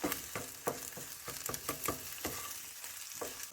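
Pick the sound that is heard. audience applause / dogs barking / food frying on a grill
food frying on a grill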